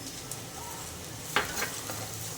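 A thinly sliced medium onion sizzles in hot oil with curry leaves in a pan, a steady close frying hiss broken by a sharp clink and light stirring scrapes.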